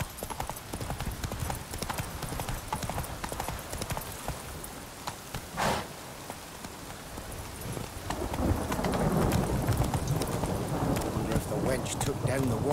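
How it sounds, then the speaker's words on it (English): A horse's hooves clip-clop steadily in The Witcher 3: Wild Hunt, a rhythmic run of hoofbeats that grows louder and busier toward the end, with someone talking over them. "Whoa there, Roach."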